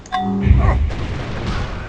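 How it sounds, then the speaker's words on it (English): Cannons fire on a siege force in Civilization 4, a loud booming blast followed by a rumbling, crackling tail, with voices mixed in beneath. "these cannons are about to blow them up"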